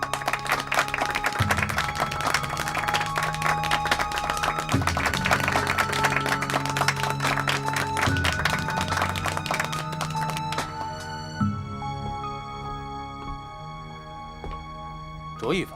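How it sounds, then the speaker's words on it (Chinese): Applause breaks out in a boardroom after a unanimous board vote, a dense crackle of clapping under steady background music with low tones, fading and thinning toward the end. "鼓掌！"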